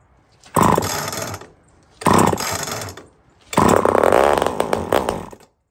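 An old chainsaw engine sputters to life after choking, running in three loud bursts, each revving for about a second or more before cutting out, with the last and longest burst snarling roughly before it dies.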